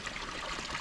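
Mountain spring water flowing steadily at the foot of a mountain, a soft close trickle and babble with no break in the brief stretch.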